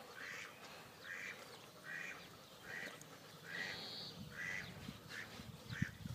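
Ducks quack repeatedly in short, evenly spaced bursts, fairly faint, over a soft outdoor background.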